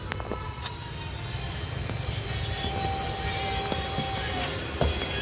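A train running past a railway station at Macherla, giving a steady rumbling roar with faint high wheel squeals, close and fairly loud throughout.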